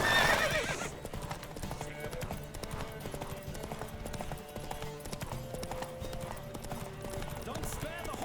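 In The Witcher 3, a horse gallops during a race, its hooves drumming in a quick rhythm under game music and ambience, with a brief whinny-like burst at the start.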